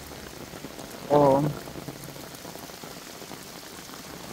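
Heavy rain pours down steadily during a storm in Taiwan, a dense even hiss throughout, with a brief spoken exclamation early on.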